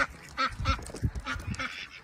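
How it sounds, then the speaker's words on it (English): Chickens in a backyard flock give a close, busy stretch of clucking and squawking calls in quick overlapping bursts, with no talking. "Good chickens."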